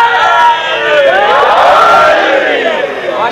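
A crowd at a religious majlis gathering shouting a slogan in unison, loud and close, voices surging together in a sustained collective cry.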